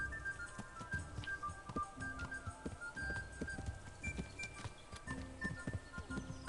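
Horse hooves clip-clop in the medieval game Kingdom Come: Deliverance, a steady rhythmic run of hoofbeats at moderate distance, fairly quiet, with faint tonal game sounds in the background.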